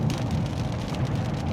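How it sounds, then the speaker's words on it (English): Heavy rain hammers on a car driving along water-covered roads, a steady, dense hiss and patter with a low road rumble beneath, continuous and close, with no voices. "It is absolutely chucking it down, and it's really quite perilous because there's a lot of water on the roads."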